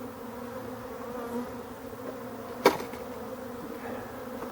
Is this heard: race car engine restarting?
no